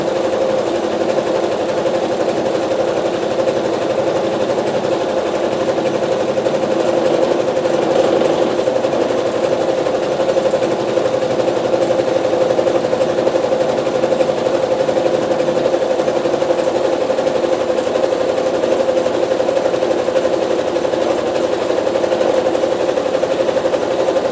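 A sewing machine fitted with a walking foot runs steadily while stitching a quilt block, a continuous close mechanical hum that holds unbroken from start to finish with no talking.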